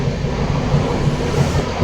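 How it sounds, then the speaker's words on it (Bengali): Inside a crowded passenger train in motion, a loud steady low rumble of wheels and carriage fills the space with faint rhythmic clatter, close and continuous, with no clear speech. "এই উঠলাম ট্রেনে,"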